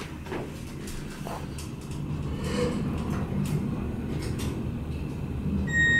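A huge EMR freight elevator in a university building in Austin, Texas, travels upward with a steady, continuous low mechanical rumble and hum that grows slightly louder near the end, with no talking.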